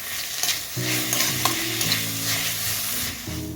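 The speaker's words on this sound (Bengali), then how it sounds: "পেঁয়াজটা ভাজা হয়ে গেছে আদা রসুন দিয়ে ভালো করে" Fried onions with ginger garlic paste stirred in a wok for Kolkata-style chicken biryani, a loud steady sizzle with scraping from stirring and a faint tonal hum beneath.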